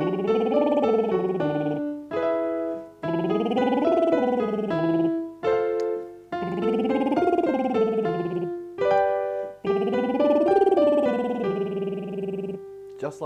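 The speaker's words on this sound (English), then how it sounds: "The first one is called a lip roll." A singer does a lip-roll vocal warm-up, lips buzzing as the voice slides up and down in pitch in five repeated phrases separated by short pauses, close and clear with no accompaniment.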